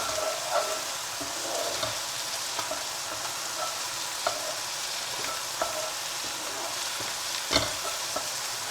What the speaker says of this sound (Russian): Пока у нас мясо обжаривается, за это время мы пожарим лук.